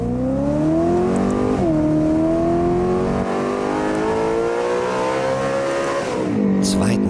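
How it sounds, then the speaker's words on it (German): Wiesmann MF4 Roadster sports car in sport mode accelerating hard, engine revving up through the range with a brief dip at a gear change, loud and close, under a voice talking. "Sportknopf gedrückt und ab geht die Post."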